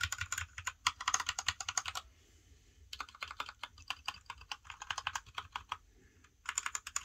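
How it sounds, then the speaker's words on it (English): Close, steady key presses on a Genesis THOR 660 mechanical keyboard with red switches, in quick flurries broken by brief gaps, the clacks fairly dull and damped, no voices present. "It's a wireless and wired mechanical keyboard. These have red mechanical switches."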